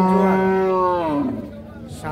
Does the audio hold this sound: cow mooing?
yes